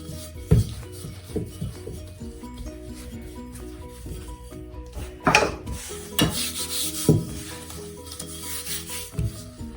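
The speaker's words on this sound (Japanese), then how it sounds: "そして残った端っこも、これでもう一度伸ばして型抜きします。" Leftover cookie dough scraps are rolled out again, giving soft rubbing and scraping strokes with a few knocks of the rolling pin on the counter, close and clear under faint background music.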